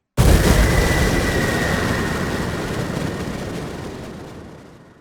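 A huge cinematic blast from the atomic bomb test scene in the film Oppenheimer: one sudden deep boom that swells into a long, loud, rumbling roar, then slowly fades over several seconds, with no voices.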